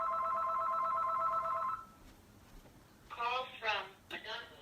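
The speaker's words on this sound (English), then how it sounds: "the phone's ringing" A telephone rings indoors in a home art studio, one long electronic ring followed by shorter bursts of ringing, moderately loud.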